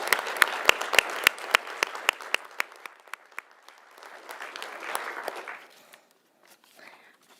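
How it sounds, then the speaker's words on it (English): A small conference audience applauds with sharp, distinct claps close by, then the claps thin out into a softer patter and fade to scattered final claps. "let's give her a round of applause"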